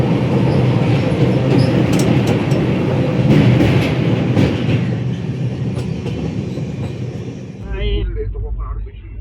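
Shaktipunj Express crossing the rail bridge over the Son river: a loud, continuous rumble with rhythmic wheel clatter heard from inside the train, which drops away abruptly near the end, leaving quieter sounds.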